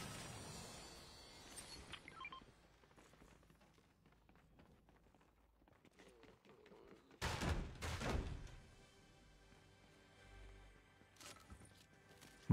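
Gunfire from an online battle royale shooter, in a no-building mode, comes as scattered shots and footstep-like clatter, with a louder burst in the middle.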